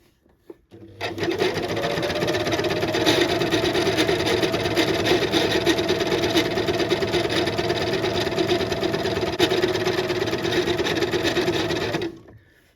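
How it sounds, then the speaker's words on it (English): A sewing machine stitches elastic fabric for a shirred skirt waist, the elastic feeding through the bobbin, giving a steady, close, continuous whirring hum with a rough rasping edge that runs unbroken for about eleven seconds, with no talking. "the dodgy sound coming from the machine, it's just the fabric, the elastic coming through the bobbin and the machine"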